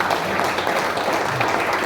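Applause from a church congregation during a sermon on the Book of Revelation, a dense, steady wash of many hands clapping together for about two seconds with no pause.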